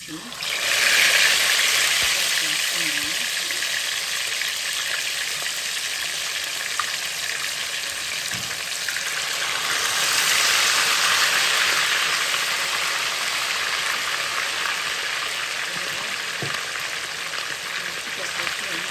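Fish sizzles steadily in hot oil in a home kitchen, a loud continuous frying hiss that swells again midway, with a voice speaking faintly now and then beneath it.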